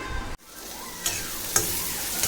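Onions tipped into hot oil already seasoned with cumin seeds and asafoetida, a brief clatter and then a loud, steady sizzle with a few stirring scrapes, close up and free of talk.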